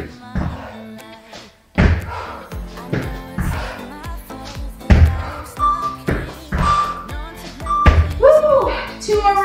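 Feet thudding on the floor during squat hops and jumping jacks in a no-equipment home Tabata workout, a series of heavy, evenly spaced landings with music and an instructor talking over them.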